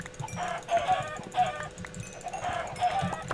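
Minecraft chickens cluck and squawk in short repeated bursts, fairly quiet and somewhat electronic-sounding, over a faint steady background hum.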